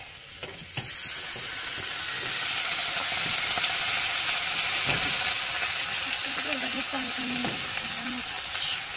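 Mustard, melon seeds, green chili paste and a splash of water hitting hot oil in a pan set off a sudden loud sizzle that keeps going steadily, with faint stirring scrapes.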